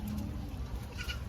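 Goats on a family farm in Bangalore bleat briefly over a dense, noisy outdoor background, the call short and at moderate distance.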